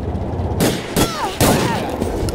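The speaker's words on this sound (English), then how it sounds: "Dumb civilian got shot." Gunfire in GTA 4 during a police patrol on a highway, with a few loud, sharp bursts over a constant engine and traffic drone; a siren-like tone sweeps faintly between the shots.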